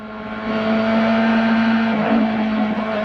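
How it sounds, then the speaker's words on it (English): An Indy race car engine is heard onboard at the 1997 Michigan 500, holding a loud, sustained high-pitched drone as the driver takes a gear, close and alone without talk. "We ride with Gilles de Ferran as he takes a gear, listening for perhaps a sour engine note."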